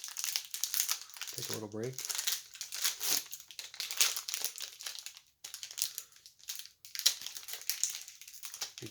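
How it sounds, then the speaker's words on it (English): Plastic wrapper of a 2023 Topps Heritage baseball card pack crinkles and tears open in close, irregular rustling bursts, with a brief spoken line early on. "Let's open up this pack of 2023 Topps Heritage Baseball."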